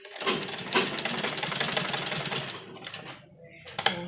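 A sewing machine stitches salwar fabric in a fast, loud, continuous mechanical rattle, then stops and restarts briefly near the end.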